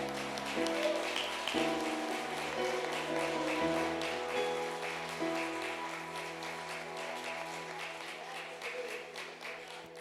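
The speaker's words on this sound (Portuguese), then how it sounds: "aplauda ao Senhor" A church congregation applauds during a worship service, steady clapping spread through the room and mixed with sustained music, slowly fading over the stretch.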